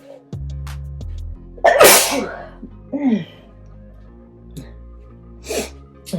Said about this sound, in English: just had to sneeze all of a sudden.